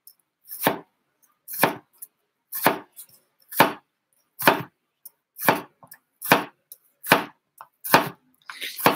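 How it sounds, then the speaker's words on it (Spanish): Karela (bitter gourd) chopped into small pieces on a board, about a dozen crisp, evenly spaced knife chops, close and clear with near silence between them. "Entonces, vamos a cortar en trocitos."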